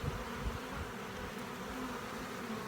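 Honeybees crowd over young brood in a hive, their buzzing a continuous close hum with a few louder passes from individual bees, unbroken and with no talk.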